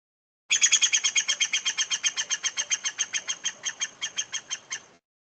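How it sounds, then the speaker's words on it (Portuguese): A green woodpecker calls in a long, even series of about two dozen sharp, ringing notes, loud and close, on a silent background. "é um outro som que também é do pica-pau verde"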